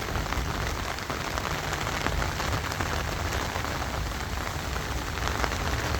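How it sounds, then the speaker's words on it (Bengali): Heavy torrential rain pours steadily over a rooftop garden, a dense, unbroken hiss of drops hitting surfaces that holds at an even level throughout, with no voices. "একদম মুষলধারে টানা বৃষ্টি হচ্ছে।"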